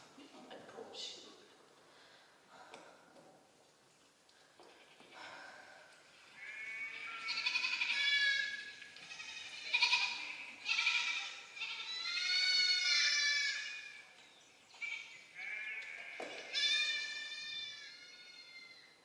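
Sheep bleat in repeated wavering cries, several calls close together and fairly clear over a quiet background with some soft rustling.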